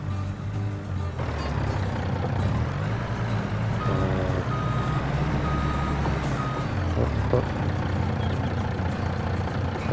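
Video game dump truck backing up with a steady series of reversing beeps over a loud low engine rumble, then the rattle of a rock load spilling out of the bed; no talk.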